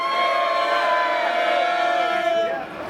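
A crowd at a mansion party show in the BX roars and cheers loudly and steadily, with shouts and whistles over a dense, sustained noise that eases off near the end.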